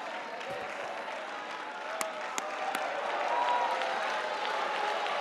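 Church congregation clapping in sustained applause during a sermon on praise, a steady wash of hands with a few sharper claps standing out, some crowd voices mixed in.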